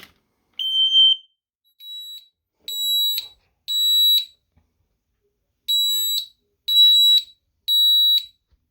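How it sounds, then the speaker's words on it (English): Loud, piercing electronic alarm beeps sound in a steady pattern of repeated bursts with short gaps, alone with no talk. "Smoke detector."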